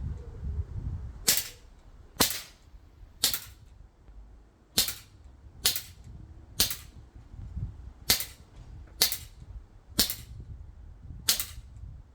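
Ten sharp, snappy shots from a 4.5 mm CO2 air rifle built as an L1A1 SLR replica, fired one at a time about a second apart, each a crisp crack over a quiet background.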